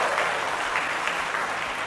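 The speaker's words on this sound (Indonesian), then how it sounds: "Tepuk tangan saja kasih bapak-bapak ini." A church congregation claps for the men of the GKS during a sermon, with a thick, continuous wash of applause filling the room at steady loudness.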